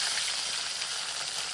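Paneer fries in a hot pan with a steady, even sizzle, close and continuous, with no talking over it.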